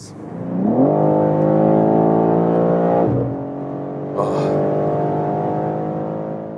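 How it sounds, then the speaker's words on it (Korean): BMW M3 Touring with a 3-liter inline-six accelerates hard, its loud rising engine note climbing steadily, dropping briefly at a gear change, then pulling again, with no talking. "3리터 인라인 6기통 엔진은 정말 보석과 같네요."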